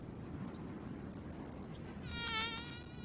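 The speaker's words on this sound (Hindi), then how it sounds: "मच्छरों का एक बड़ा झुंड सिटी जी में देखा गया है" A swarm of mosquitoes gives off a thin, continuous whining buzz that swells briefly near the end, over a dense rumbling background with no speech.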